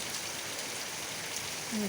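Steady, soft hiss of rain falling on an afternoon during a thunderstorm, continuous broadband patter, with a brief faint tone near the end.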